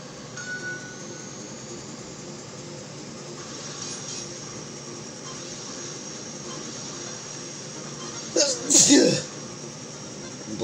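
A person sneezes loudly near the end, a sharp close burst after a steady stretch of background noise from video game play.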